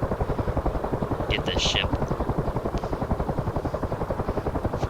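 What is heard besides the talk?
helicopter flying in DCS World video game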